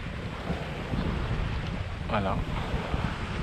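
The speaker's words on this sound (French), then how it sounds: "Là le vent s'est levé un peu, il y avait 14-15 nœuds tout à l'heure." A sailboat at sea beats close-hauled in a 14–15 knot breeze, steady wind rushing across the microphone over the wash of the water, with a brief spoken word partway through.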